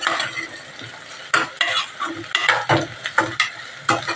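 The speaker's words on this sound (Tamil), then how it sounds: "பூண்டு போட்டு நல்லா கலக்கி விட்டுடலாம்" Green chillies and garlic sauté in oil while being stirred, producing a lively sizzle with repeated scraping, clattering stir strokes close by.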